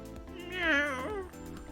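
A cat in the video game Hustle Cat lets out one loud, close, drawn-out meow that swells and then fades, set against soft background game audio.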